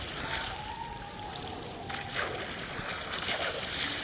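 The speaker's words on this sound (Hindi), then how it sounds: "मैं पानी में गिर जा रहा हूँ।" A Minecraft player drops into water, giving a steady sloshing splash that runs through the whole stretch at moderate level, with no talk over it.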